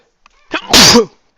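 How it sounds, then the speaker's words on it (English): A single sharp sneeze, close and loud, with a quick intake of breath just before it. "not to sneeze into the mic, and I'm sorry I did that."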